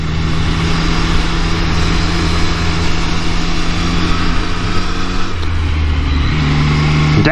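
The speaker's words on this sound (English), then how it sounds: "The handling of this bike, the linear torque, linear acceleration that this engine provides," A motorcycle engine drones steadily while riding along a Japanese mountain road, a loud continuous hum with wind rush that shifts in pitch near the end as the revs change.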